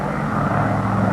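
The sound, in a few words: McDonnell Douglas DC-6 four-engine propeller airliner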